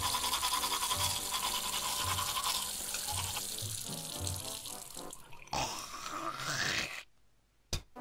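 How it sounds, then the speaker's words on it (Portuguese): Close, vigorous toothbrush scrubbing fills the first half, followed by gurgling, running water and sink splashes that fade into near silence, broken by a couple of short bumps. "Vou escovar meus dentes."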